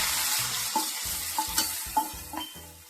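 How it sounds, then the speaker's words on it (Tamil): Washed cashews and raisins fry in a pan for kesari, a soft sizzle punctuated by a rhythmic run of stirring strokes and light scrapes, close and without talking. "முந்திரி திராட்சை கழுவி உள்ள போட்டிருக்கேன் நல்லா வதக்கெடுத்துக்கலாம்"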